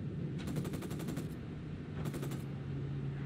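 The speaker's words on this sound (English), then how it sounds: "Opening fire." Automatic gunfire in the video game Tom Clancy's Ghost Recon Wildlands, two rapid bursts of shots, the first longer and the second shorter, over a steady low background hum.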